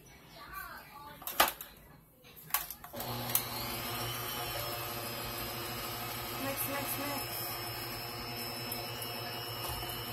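An ordinary electric kitchen mixer starts up after some clatter and handling, then runs as a steady droning whir while mixing dinner roll dough. A voice speaks briefly near the start.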